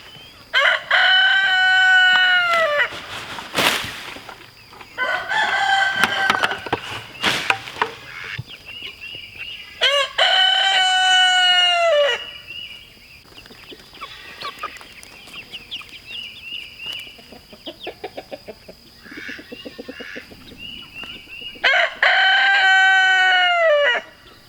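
Roosters crow loudly several times in long drawn-out calls, with hens clucking and chattering in between, close by and busy, with no speech.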